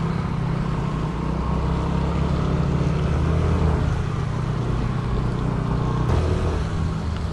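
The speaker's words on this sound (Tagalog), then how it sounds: "Ang lakas ng turbo niya" A turbocharged car driving up a steep mountain road in Baguio during a storm, its engine a steady, close, low rumble with constant road and wind noise and no talking.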